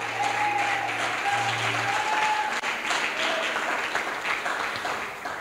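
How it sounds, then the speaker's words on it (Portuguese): A church congregation claps joyfully for Jesus during a worship service, a dense, steady wash of applause from many hands with faint voices mixed in, fading slightly at the close. "Palmas para Jesus com alegria"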